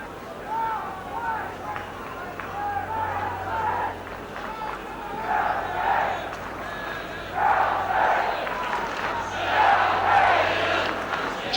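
Chelsea football crowd at a 1970s league match against Derby County, a distant roar of voices building in surges and swelling louder toward the end, with a commentator speaking over it.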